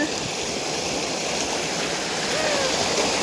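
A waterfall in the Malenadu region flows in a continuous broadband rush, loud and steady for the whole span with no pauses.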